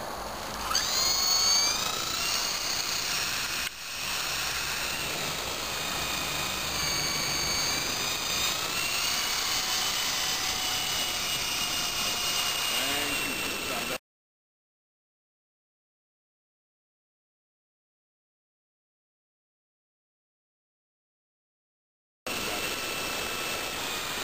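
A small E-flite Blade 120SR RC helicopter whines steadily with a high, buzzing rotor and motor drone, its pitch shifting slightly, then it cuts out suddenly into silence.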